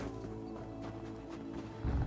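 A wolf in an online fantasy role-playing game gives a low growling roar under a steady game music bed, swelling louder right at the end.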